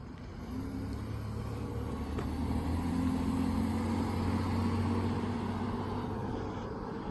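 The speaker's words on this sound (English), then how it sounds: "There's a car coming" A car on a street drives close by with a steady low engine rumble and road noise that swells toward the middle and slowly eases away, heard alone without voices.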